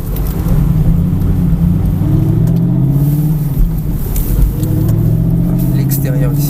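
A car on a race circuit, held in at least third gear, pulls hard with a loud, close engine note rising and falling as it accelerates, while a person talks over it.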